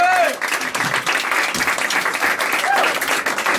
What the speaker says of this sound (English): let's give him a big round of applause now